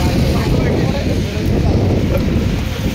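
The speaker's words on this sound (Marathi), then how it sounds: "जास्त हवा पण सुटली आहे" Strong wind buffeting the microphone at night on a mountain pass, heavy low rumbling gusts, loud and constant throughout, with speech partly buried underneath.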